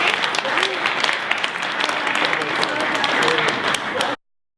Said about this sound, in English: We'll just give another round of applause for our two candidates.